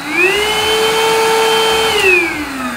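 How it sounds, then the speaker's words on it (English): A close, loud Eureka RapidClean Pro cordless vacuum cleaner on its high setting whines upward as it spins up, holds a steady shrill motor tone, then winds down near the end, with no voices. "And that is high."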